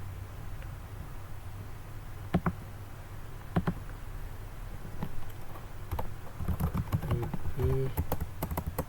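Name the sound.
typing a command on a computer keyboard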